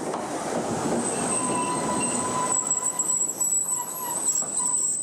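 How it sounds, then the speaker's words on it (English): A train rumbles steadily close by, its wheels squealing with thin high-pitched metallic whines as it rolls slowly into Grodzisk station in Poland. "The train arrives in Grodzisk, a station midway along the route."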